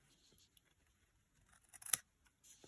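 Paper being snipped with scissors during Christmas crafting, a few quiet cuts with one sharper snip near the end, close up and without talk.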